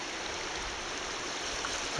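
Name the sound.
Weiser River current flowing with turbulence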